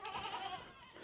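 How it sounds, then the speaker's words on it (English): Female donkeys bray loudly nearby in one strained, wavering call that fades after about half a second. The setting is a farm. "the donkey girls are yelling at me again"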